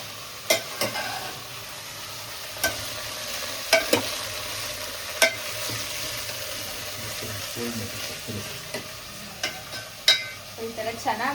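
Cauliflower being stirred and fried in a pan in a home kitchen, a low frying hiss with repeated sharp clacks of a spatula against the pan, irregularly spaced, and faint background voices.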